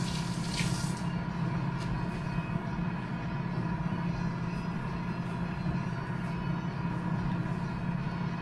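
Water poured into a pot of braising Filipino pork asado, a steady close hiss and splash of liquid over the simmering meat, continuous and fairly loud with no talking.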